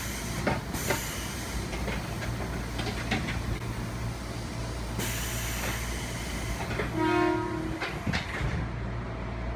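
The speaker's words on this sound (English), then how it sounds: "I am on board the KRL, which is Jakarta's commuter system, and the trains are second hand from Japan" Interior of a KRL Jakarta commuter train, a second-hand unit from Japan: steady rumble and hiss of the carriage in motion, with brief clunks and a short tonal chime or horn-like tone near the end, no talking.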